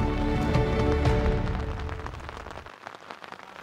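Torrential rain pours down on a Kilimanjaro trail above the forest, a dense, close hiss of drops drumming on surfaces that is loud at first and then eases slightly.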